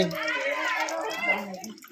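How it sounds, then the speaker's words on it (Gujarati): Water runs steadily from a newly connected tap on a fresh plumbing pipe install, a continuous splashing rush that fades slightly toward the end, with a voice talking over it. "જો આ નળ કનેક્શન પાણી આવે છે"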